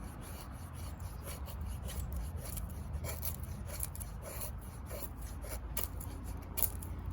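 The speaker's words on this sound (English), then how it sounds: "I got the grain coming out at me, so I'm chipping it out right there." A Marttiini Ilves puukko knife chips and scrapes red oak, producing soft, close, repeated rasping strokes with occasional sharper cuts, steady and fairly quiet.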